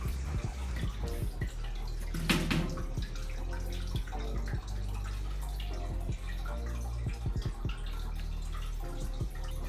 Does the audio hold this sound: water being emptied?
yes